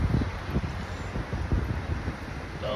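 Steady outdoor breeze gusting against the microphone on a mild sunny day, a low continuous rumble with soft swells and dips throughout, no voices.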